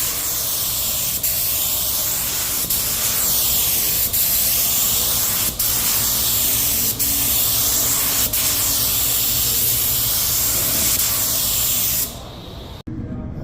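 Steady, loud spray of base coat paint from a spray gun onto a 1968 Dodge Coronet, a continuous hiss with brief breaks as the trigger releases, cutting off near the end.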